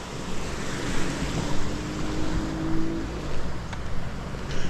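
Water rushes steadily through an open sluice gate on a canal in a Philippine province, a continuous broadband roar with gentle surges and some wind noise, with no voices.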